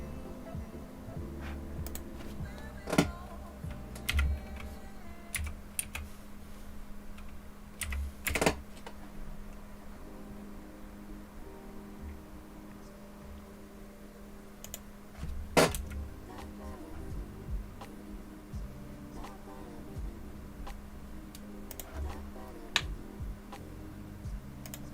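Computer keyboard typing at a desk during an X-Plane 11 United 737-800 flight simulation, sparse clicks and short bursts of keystrokes over a low steady hum, close and fairly quiet, no talk.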